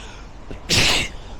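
A single sharp sneeze bursts out loud and close after a short quiet intake of breath.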